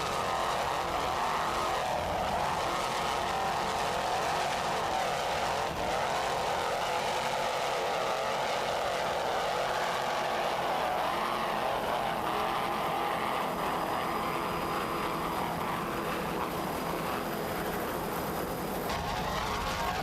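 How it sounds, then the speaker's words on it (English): Twin 800-horsepower Mercury inboard engines power an offshore racing powerboat at a Virginia Beach Grand Prix race, a loud, steady roaring drone with a faint rising whine and no talk over it. "Let's listen to those two 800 horsepower Mercury inboards."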